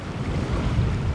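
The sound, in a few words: strong wind and waves on the water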